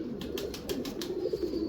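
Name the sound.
pigeons cooing in a breeding setup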